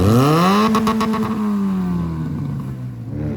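A tube-chassis, fiberglass-bodied race car with a Toyota 1.5-liter four-cylinder and manual transmission revs up sharply nearby, then its engine note slowly falls away, loud and close with no talking.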